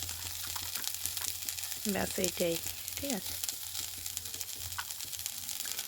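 Cauliflower and peas fry in a pan with a steady close sizzle, broken by a few scraping stir sounds. Someone speaks briefly over it.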